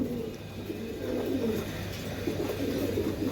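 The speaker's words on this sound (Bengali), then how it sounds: "এই যে একটা কবুতর আছে এটাও নর কবুতর" Giribaz pigeons in cages coo softly and repeatedly, low burbling calls overlapping at close range against a steady background hum, with no one speaking.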